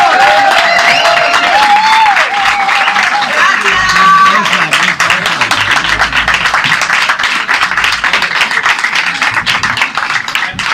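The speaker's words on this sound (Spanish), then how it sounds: "Pero un aplauso más fuerte," A book presentation audience in Madrid breaks into loud, sustained applause that keeps building over several seconds. A speaker's voice briefly rises over the clapping near the start before it fills the room alone.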